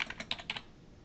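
A computer keyboard is tapped in a quick, light run of several keystrokes, entering a case number in a quiet office setting, faint and close with no talking.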